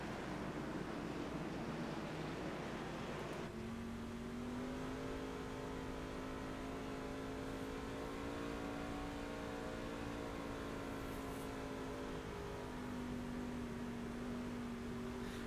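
A race truck's engine drones steadily from onboard during a restart in a truck series race at Martinsville, holding a loud sustained tone that climbs in pitch as it accelerates, with wind rush and road roar throughout.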